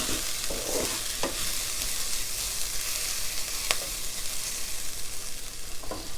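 Minced garlic sizzles steadily in a hot pan for a soybean chilli dish, a continuous broadband hiss with a few sharp stirring clicks and scrapes scattered through it, close and fairly loud, no voices.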